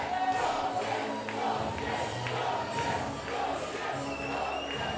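A boxing crowd chants a fighter's name in a large arena, rhythmic massed voices rising and falling in repeated surges, loud and reverberant.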